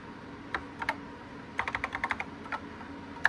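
Keys clack on a NABU computer keyboard as a game name is typed in, scattered single presses followed by a quick run of crisp, close taps, then a pause and a last pair.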